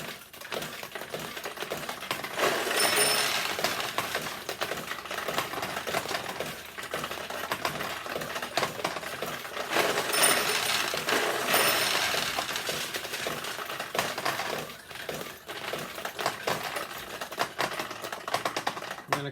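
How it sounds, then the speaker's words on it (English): A 1974 Sanyo vintage pachinko machine running with its tulips open, giving a busy metallic rattle of steel balls cascading and clattering through the pins, with bursts of payout clinks that swell and fade over about twenty seconds. "So now that the tulips are open, let me fire it up again, and you'll see more wins because it's easier."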